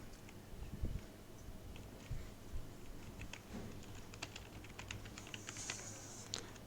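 Rapid clicks on a computer keyboard as a code comment about a keyword is typed, a steady stream of light, close keystrokes with a few heavier taps, no talking.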